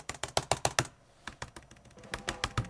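Keys clatter on an Apple MacBook Pro 16-inch keyboard, a close, crisp burst of quick taps, a brief pause, then another run of evenly spaced keystrokes.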